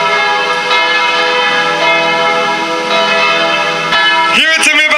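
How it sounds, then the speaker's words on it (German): Church bells ring continuously and loudly with a rich, layered peal, heard outdoors in Graz during a 2016 street demonstration, the ringing sustained throughout with crowd noise rising near the end. "Dieses Glockengebimmel ist nur erschwert."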